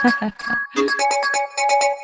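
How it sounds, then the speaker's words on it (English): Radio studio phone ringing for an incoming call on a talk show, a run of rapid electronic ring bursts in quick repeating pulses, loud and close with no talk over it. "And we have a caller, and I don't know how to answer this phone"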